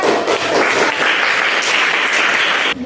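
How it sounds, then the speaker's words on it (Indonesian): Students in an Indonesian school classroom clap together in a burst of loud, steady applause that lasts nearly three seconds and then stops abruptly. "Tepuk tangan."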